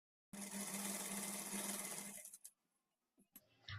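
A sewing machine runs in one quick, loud burst while stitching a fall onto the edge of a saree, then stops, followed by a few faint handling clicks and rustles.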